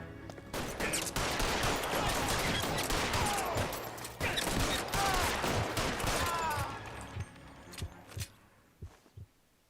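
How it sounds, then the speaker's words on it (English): Rapid bursts of gunfire ring out in an L.A. Noire shootout, dense volleys mixed with game noise for most of the stretch, then thinning to a few sparse, isolated shots near the end. "Shots fired"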